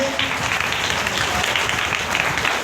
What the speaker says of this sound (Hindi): तो एक जोरदार ताली आप सभी स्टार के लिए